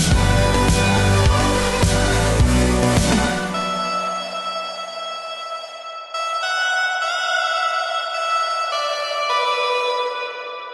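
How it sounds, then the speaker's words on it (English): Bright lead synth line from a song, rebuilt in Propellerhead Reason, enters over a dense full mix that drops away, leaving sustained reverb-washed synth notes with a breathy noise layer, steady and fairly loud. "Next up would be the lead synth,"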